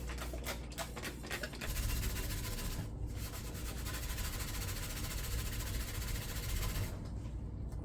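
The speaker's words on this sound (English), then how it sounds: "I really want to get some good scrubbing in here this time" A stove being scrubbed gives a faint, steady rubbing scrape that runs continuously, soft and close, with brief gaps near the start.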